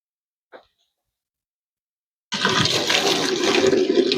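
Boiled potatoes for potato salad being drained, with a brief small knock followed by a loud, continuous rush of pouring water that starts abruptly and keeps going.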